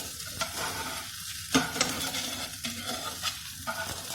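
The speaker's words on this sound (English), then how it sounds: "So you can just flip it and let it toast the other side as well" French toast fries in a pan after being flipped, a close sizzle with crackling pops and a few scraping touches, steady and alone without speech.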